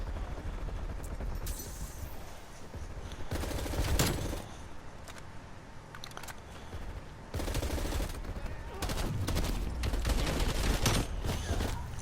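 FARA 83 assault rifle fire in the video game Call of Duty Cold War comes as repeated automatic bursts of rapid shots. Bursts are separated by short pauses, with game effects in the background and no speech.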